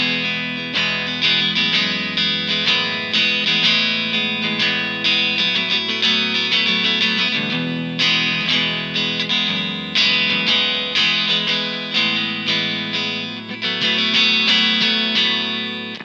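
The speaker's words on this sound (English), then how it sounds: "Let's have a listen to a bit of the clean tones that we can get out of this amp." An electric guitar plays clean tones through an Engl Powerball II amp profile on a Kemper, miked through a V30 cabinet. Strummed chords ring out in a steady rhythm, bright and close, with no talking.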